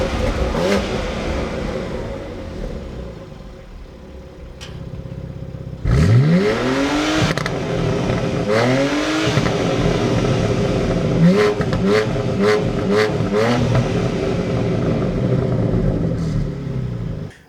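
BMW X3 M and X4 M Competition sports exhaust revving loudly up close, with repeated sharp rising engine sweeps and pops after a quieter idle stretch, no talking.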